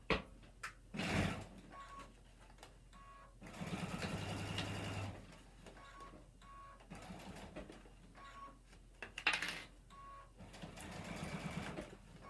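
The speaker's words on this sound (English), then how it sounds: "And then you would sew the sides of your bag and your bottom just like this" A sewing machine stitching the side and bottom seams of a fabric bag with a half-inch seam allowance, running in short bursts of fast mechanical whirring separated by pauses and quiet handling noises.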